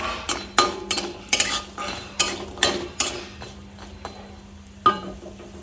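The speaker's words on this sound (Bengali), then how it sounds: "বড়িগুলোকে আমি লাল লাল করে ভেজে নেব।" Lentil dumplings frying in oil under a soft sizzle, with repeated sharp scrapes and clinks of a utensil stirring against the pan.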